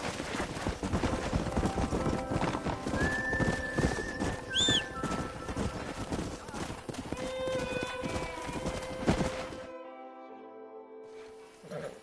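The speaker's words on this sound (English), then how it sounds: "We got some fine horses." Rapid hoofbeats drum along with a sharp neigh midway, set against game music and occasional speech in Red Dead Redemption, before the galloping drops away near the end.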